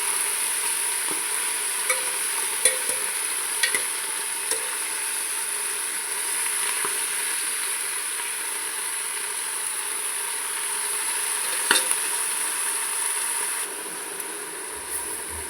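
Ingredients for a Tamil-style chicken curry sautéing in a pan, a steady low sizzle with occasional soft stirring clicks throughout, fairly quiet and without talk.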